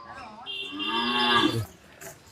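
A single long, loud moo from a nearby pregnant heifer, rising and then fading, followed by a brief quiet.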